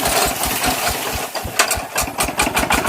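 A tractor built for dry farmland runs close by, its engine chugging in a steady, loud, rough rhythm with rattling knocks and no voices.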